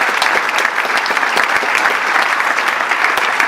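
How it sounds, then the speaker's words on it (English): A luncheon crowd at a police awards event claps steadily and loudly, dense applause sustained throughout without a break. "If we could have a round of applause for Pickwick Gardens"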